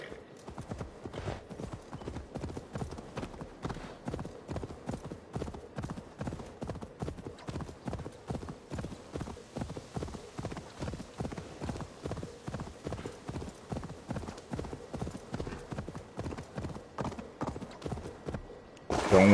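Horse hooves clip-clop steadily while riding in the video game Assassin's Creed Valhalla, a brisk, even rhythm of close, crisp hoofbeats that continues unbroken throughout.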